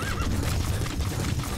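D-Horse, the horse in the Metal Gear Solid 5 video game, gives a loud, close neigh, followed by a brief scuffle of hooves.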